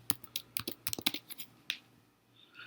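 Close, quiet typing on a computer keyboard, a quick run of about a dozen irregular key clicks that slows and fades into near silence.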